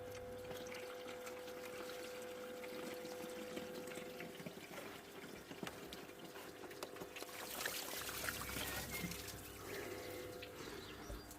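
Water pours and trickles steadily out of the flooded ECU compartment of a Corsa D 1.3 CDTi, faint and continuous under a steady background hum, swelling slightly toward the end.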